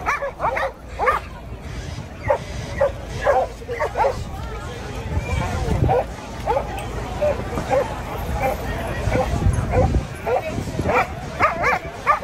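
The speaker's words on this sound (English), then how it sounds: "That dog was upset." A dog barks and yips repeatedly in agitated bursts, with whimpering in between, while a crowd babbles and people talk and shout close by in a busy street scene.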